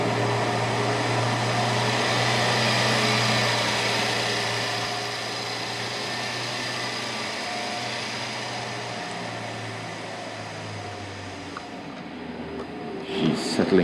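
A Rolls-Royce Wraith engine, just started with the bonnet open, idles with a low steady hum that eases down and quiets, heard close, ending in a brief clatter of handling noise.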